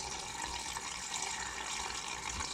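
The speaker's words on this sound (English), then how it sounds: "And then I'm going to pour some down here." Antifreeze being poured down a drain while an RV is winterized: a steady, close rushing splash of liquid that continues unbroken throughout.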